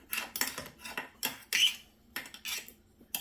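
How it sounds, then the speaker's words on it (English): Metal spoon scraping stuck tomato pieces inside a tomato mill, a series of short, close clinking scrapes in irregular bursts with quiet gaps between. "So I'm just coming in here with my spoon"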